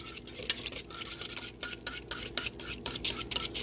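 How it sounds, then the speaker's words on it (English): A whisk beats BBQ sauce mixed with a teaspoon of ginger in a bowl, making quick, rhythmic scraping strokes that repeat steadily and sound close and fairly quiet, with no voices. "Let's whisk this around."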